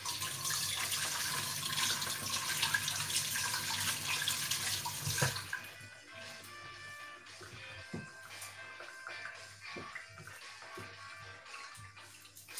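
Tap water runs loudly from a faucet as mushrooms are rinsed for a cream of mushroom soup, a steady rush for about five seconds before it stops, followed by quieter kitchen handling and a few drips.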